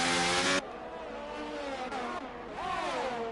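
A race car engine in a sim racing video game holds at full revs with a loud, harmonic whine, cuts off sharply, then rises again with a shifting pitch, under commentary.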